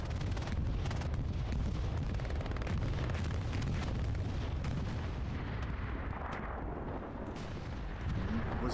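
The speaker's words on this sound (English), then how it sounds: "Bombing run from Smithers." A bombing run in the World War II shooter Hell Let Loose, loud overlapping explosions rumbling on and on as a dense, continuous barrage of deep booms, heavy bursts repeating without pause.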